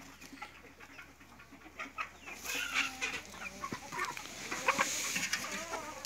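Hens cluck in their nests on a farm, a close, busy chorus of repeated clucks and throaty calls that grows livelier partway through.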